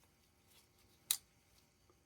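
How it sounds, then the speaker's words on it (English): A Forever Steel Megrez folding knife snapping into its locked open position, one crisp click standing out sharply against an otherwise quiet background. "Nice clicky snap into the lockup position."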